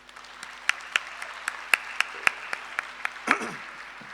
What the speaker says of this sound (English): may I humbly request the audience to give them a round of applause